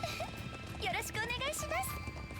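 A horse is summoned in the video game Trails into Reverie, giving a wavering whinny among the game's sound effects, with a voice speaking over part of it.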